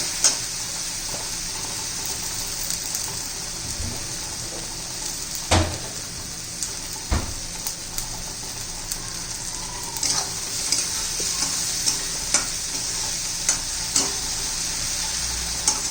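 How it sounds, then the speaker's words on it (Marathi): Onion greens sautéing in hot oil for a besan dish, a continuous close sizzle punctuated by frequent scraping and knocking of a spoon stirring the pan. "चांगले एखाद दोन मिनिट चांगले परतून घेऊया आपण तेलामध्ये"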